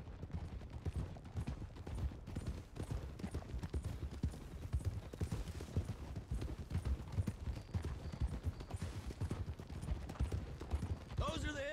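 In the video game Red Dead Redemption II, horses' hooves clip-clop in a steady, continuous galloping rhythm along a road, fairly quiet and constant, without talk.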